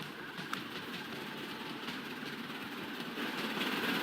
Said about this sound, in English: Bill and Ben now actually have, you know, a proper sized train that they're hauling back and forth